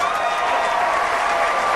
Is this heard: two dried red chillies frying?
no